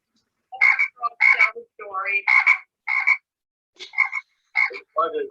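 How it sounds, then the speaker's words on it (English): A frog croaks in a series of rough, pulsing calls, about nine bursts in uneven rhythm with short pauses between, close and clear against a silent background. "Doesn't that sound like a frog, or you think it sounds like a dog? That's a frog. Definitely a frog."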